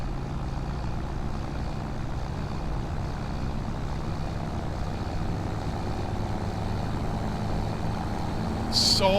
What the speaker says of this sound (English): So loud inside this tractor.